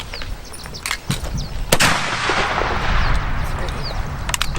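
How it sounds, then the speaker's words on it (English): Several musket shots fired from a fort crack out at intervals, one loud and near with a long rolling boom, others sharper and more distant, over steady outdoor noise and murmuring voices. "they're shooting their muskets out of this fort here"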